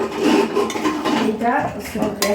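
Tomatoes and potatoes being mixed in a pot for a dry curry, heard as close, continuous clanking and scraping of a spoon against the metal, with a brief clink near the end.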